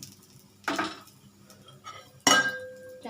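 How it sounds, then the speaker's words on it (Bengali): A metal lid is set down on a cooking pan, two distinct clinks about a second and a half apart, the second brighter and ringing briefly, close with a faint background hum. "আমি ঢাকনাটা চাপা দিয়ে দেবো"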